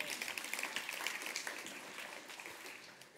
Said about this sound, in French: Vous pouvez applaudir le Seigneur pour ça.